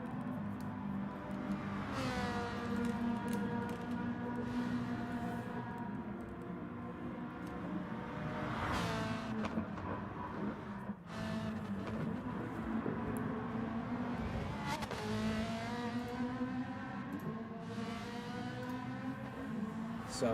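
Race cars lap the Red Bull Ring on soft tires in a sim racing endurance event, faint engine whines rising and falling in pitch as cars pass and shift, with a steady low engine drone throughout.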